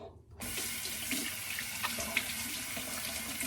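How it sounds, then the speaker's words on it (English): Water runs from a shower after a mustache trim. It starts suddenly and keeps up a steady, close splashing hiss with no voices. "I'll jump into the shower."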